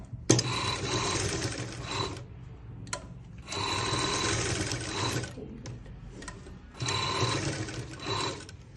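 Sewing machine stitching a shirt, running close and loud in three steady whirring bursts of rapid needle clatter, with short pauses between them.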